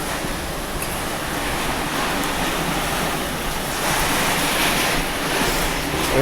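Floodwater rushes and churns in a continuous loud wash, with broadband roaring and wind buffeting against the microphone and no voices.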